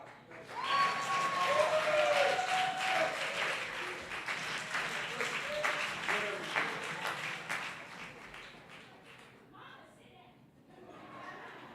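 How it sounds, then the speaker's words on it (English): Audience applause at a Juneteenth Freedom Day celebration in a church, sustained clapping from a crowd lasting over ten seconds, fading slightly toward the end, with some cheering and voices mixed in. "Let's give another round of applause, Sister Dixon."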